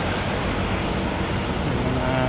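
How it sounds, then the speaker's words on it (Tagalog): Cars pass on the road beneath an overpass, giving a steady, dense roar of traffic with no breaks and no talking. "Mga dadaan ng mga sasakyan."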